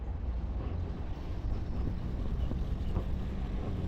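Steady wind blowing across an open canal during a snakehead fishing trip, a broad continuous low rushing roar with no pauses, loud and close to the microphone, with no one talking.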